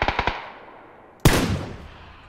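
Gunfire in the video game PUBG: a quick close burst of four rapid shots, then a pause and one louder, heavier blast that echoes away.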